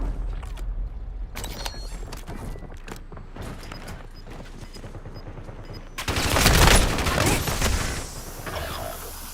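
Gunfire in Black Ops 6 Warzone (Verdansk battle royale): repeated rapid shots and bursts throughout, with a louder, denser barrage near the end, mixed with game ambience.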